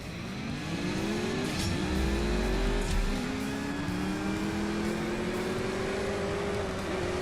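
A race car in the mobile game CSR2 Racing accelerates hard, its engine revving through rising gear pulls with a low rumble, loud and continuous throughout.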